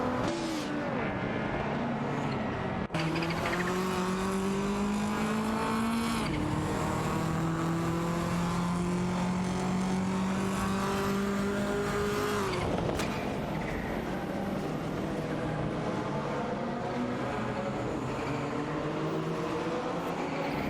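Racing cars in a circuit race jostle for position, their engines droning loud and continuous with rising and falling pitch as they rev, with a sharp shift partway through and no voices.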